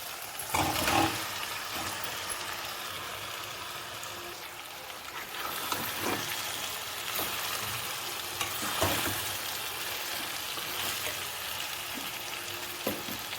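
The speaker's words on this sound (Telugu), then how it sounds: "ఫ్రెండ్స్ ఇప్పుడైతే ఆనియన్స్ అయితే బాగా ఫ్రై అయిపోయినాయి" Onions sizzle softly in a pan as boiled chicken is added, a low steady fry with scattered scraping and stirring sounds and occasional louder bursts.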